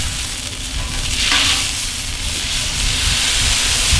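Wagyu tri-tip steak searing on a hot cast iron grill, a steady loud sizzle and hiss running throughout with a brief burst of sharper crackle midway, no voices.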